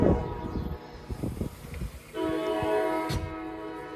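A loud train rolls past a trackside home, a steady heavy rumble building after a couple of seconds, with a sharp horn-like burst near the three-second mark over the continuous rail noise.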